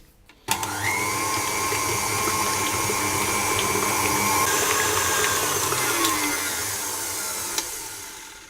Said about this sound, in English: the first thing I'm going to do is to just beat the sugar and the eggs together